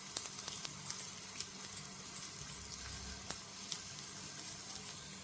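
Dried red chillies, coriander seeds and asafoetida frying in hot oil, a close, steady sizzle with quick popping crackles and faint stirring taps throughout.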